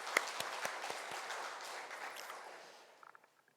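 Church congregation applauding at a Friday mission prayer meeting, starting with a few sharp claps and then a dense round of clapping that slowly fades to scattered final claps.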